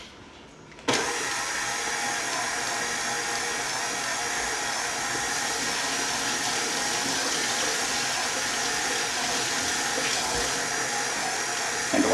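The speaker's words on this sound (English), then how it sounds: "When you hear the mixer bogging down a little bit, that means our dough is getting nice and thoroughly mixed and kneaded." A stand mixer kneads garlic pepper cheddar bread dough, its motor whirring loudly and steadily after switching on, with a slight labouring strain as the dough stiffens.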